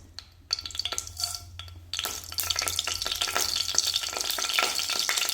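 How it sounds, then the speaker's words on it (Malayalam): Mustard seeds crackle and sizzle in hot sesame oil in a pan. The sound is sparse at first, then after about two seconds it swells into dense, steady popping and spitting that carries on to the end, with no voices. "നല്ലെണ്ണ ചൂടാകുമ്പോൾ നമുക്ക് കടുക് ചേർത്ത് കൊടുക്കാം."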